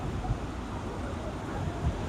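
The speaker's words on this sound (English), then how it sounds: "It's so windy out here." Strong wind blows outdoors as a steady, loud rumbling buffet against the microphone, with low gusty swells and no voices.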